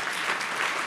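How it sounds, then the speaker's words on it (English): Brief burst of audience applause at a business talk, a dense, steady wash of clapping for under a second with no voices over it. "I keep cutting off the applause."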